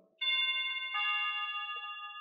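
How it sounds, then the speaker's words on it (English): A 433 MHz wireless doorbell plays a clear, loud, sustained electronic chime that rings alone in a quiet room after a brief pause, its tones holding steady for about two seconds. "So let me just press the doorbell button."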